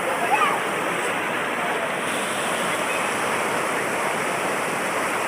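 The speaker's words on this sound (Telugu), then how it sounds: "ఇదిగోండి జాలివారుతున్న నీళ్ళు" Water rushes and pours continuously in a steady, loud broadband roar, like a small waterfall, with no change throughout, at Chaparai waterfall near Araku.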